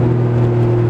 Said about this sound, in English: You can just hear the turbo spool.